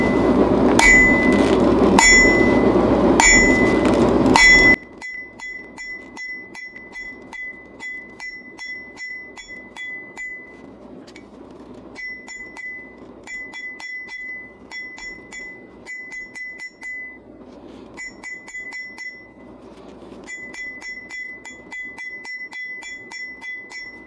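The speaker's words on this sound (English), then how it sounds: "Wow, hammer blows for the loss." Metal hammer strikes a ball punch resting on a brick: one heavy burst of loud blows, then a long run of quick, lighter ringing taps with bright metallic clinks, steady and close.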